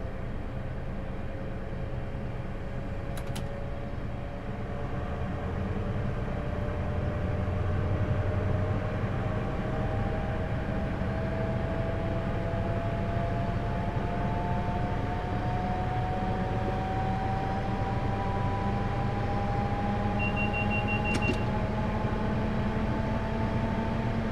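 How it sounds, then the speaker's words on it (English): HST diesel train in Train Simulator 2017 on the Swansea to Bristol Parkway line, a steady engine drone with a slowly rising tone as it accelerates, then a continuous rumbling run with power shut off. "So I'm going to accelerate up to around 30 to 35, and I'm going to shut off the power"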